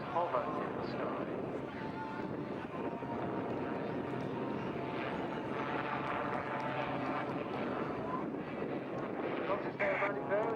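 Aerobatic plane from the Matadors display team flying at the Southport Air Show, a steady droning engine roar held at a constant level throughout, fairly distant and mixed with wind buffeting on the microphone.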